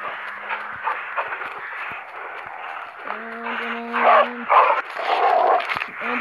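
A dog in the zombie video game Into the Dead whimpers and yips in short bursts, mixed with shuffling game sounds and a few tonal cues at moderate volume.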